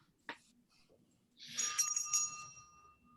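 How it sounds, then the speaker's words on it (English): A small bell rings with a bright, shimmering tone that decays over about a second, preceded by a quiet tap. "So you can ring the bell."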